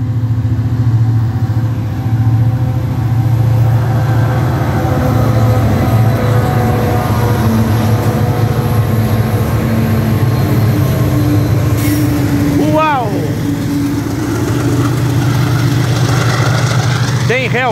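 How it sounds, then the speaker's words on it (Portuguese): A freight train rolls into Rolândia from Cambé at over 50 km/h with helper locomotives, a loud, continuous close rumble of engines and rolling wagons that holds steady throughout, with a brief metallic squeal near the end. "Trem chegando em Rolândia nesse domingo, vindo de Cambé, em alta velocidade, a mais de 50"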